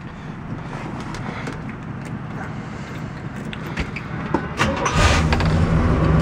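A 1965 Oldsmobile 442 with automatic transmission cranks and fires up, the engine catching near the end and settling into a loud, rumbling idle close to the microphone, with no talking.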